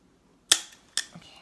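Sharp scissors snip twice through a travel lint roller, each cut a crisp, close click with a short tail, followed by a faint rustle.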